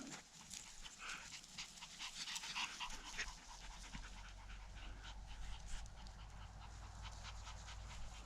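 A female dog pants in quick, soft, rhythmic breaths, faint and fairly close, steady throughout with no talking over it.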